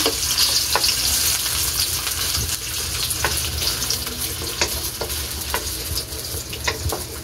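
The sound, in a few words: frying ham and hotdog in a pan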